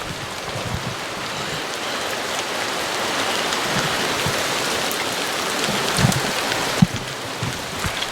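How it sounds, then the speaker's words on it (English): Heavy rain pours down steadily outdoors, a loud, close, continuous hiss of drops on surfaces with a few sharper splashes near the end. "it's still raining. It's raining pretty good."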